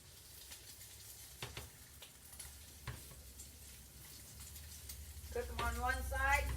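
Salmon patties frying in a pan give off a soft, steady sizzle with a few clicks and taps. Near the end a voice starts speaking over the sizzle.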